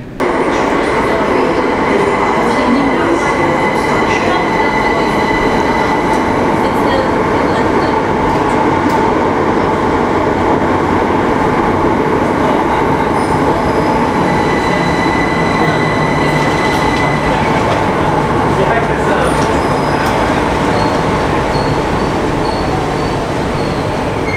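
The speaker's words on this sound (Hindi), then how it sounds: "आई गेस थोड़ी देर में बस यहाँ पर हमारी हित्रो एक्सप्रेस आने वाली है" A Heathrow Express train pulls into a London station platform with a loud, sustained rumble, wheel squeal and rail noise that continue throughout, close and dominant with no talk.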